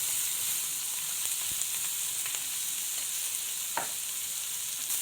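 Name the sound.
onions sautéing in a pan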